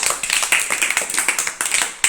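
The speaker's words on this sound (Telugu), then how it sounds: "వెరీ గుడ్ మా. క్లాప్స్." Schoolchildren in a classroom applaud a classmate's correct answer during a maths lesson on shapes, a quick burst of rapid, uneven clapping from a small group, close and lively, with no talking over it.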